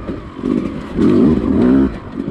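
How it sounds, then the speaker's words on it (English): A 2020 Beta 200RR small-bore two-stroke dirt bike engine revs up and holds a raspy, buzzing pitch for about a second before easing off, close and loud with no talk. "I'm really impressed with how much grunt it has for a small bore two-stroke."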